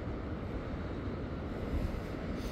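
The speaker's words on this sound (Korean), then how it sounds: "오늘은 파도가 조금 있습니다." Sea waves at Cheongsapo on the Busan coast with some swell, a steady broadband wash of surf mixed with wind rumble on the microphone, continuous and fairly even throughout with no voices.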